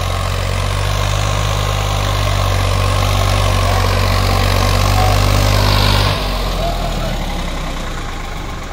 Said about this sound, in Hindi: लागू बहुत खेच रहा ट्रैक्टर